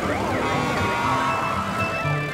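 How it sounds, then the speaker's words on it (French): A cartoon fire truck siren wails continuously and loudly in rising and falling sweeps as the vehicle speeds along. "Regarde, un camion de pompiers roule très vite."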